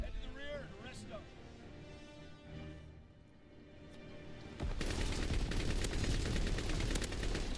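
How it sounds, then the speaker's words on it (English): A Lewis gun fires in the WWII shooter Call of Duty: WWII, with a dense, continuous burst of automatic gunfire in the last few seconds, following earlier game speech and noise. "the Lewis gun in this little corner"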